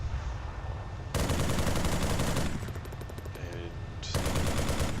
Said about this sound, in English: I think this is a remote crew served weapon. It's got a grenade machine gun